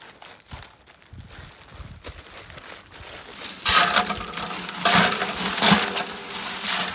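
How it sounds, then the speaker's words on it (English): A bag of ice tumbles and crunches into a container of turkey brine, with a loud crushing, rattling burst in the second half that follows quieter rustling and handling. "so I'm going to add a bag of ice"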